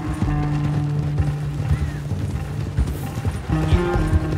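Hooves pound at a gallop in Red Dead Redemption 2, loud and close, with a rapid, driving rhythm under a bed of music.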